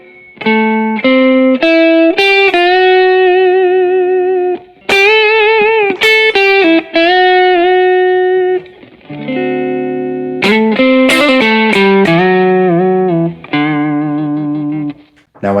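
Distorted electric guitar plays a solo line with repeated string bends sliding up into chord tones, loud and close, phrases separated by brief pauses, with no speaking over it.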